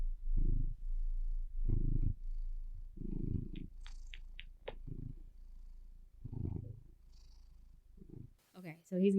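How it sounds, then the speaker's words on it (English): A cat purrs close up in a slow, rhythmic rumble of repeated breaths, with a few soft higher squeaks and a brief rustle at the end. "I'm sorry if you can hear him purring"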